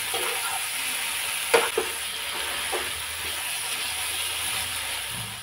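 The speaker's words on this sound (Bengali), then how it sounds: "এবার চিকেনটা দিয়ে দেবো। গ্যাসটা বাড়িয়ে দিয়ে 5 মিনিটের মতো কষে নেব।" Chicken fried over high gas in a pan, a faint continuous sizzle with a couple of brief scrapes from stirring near the middle.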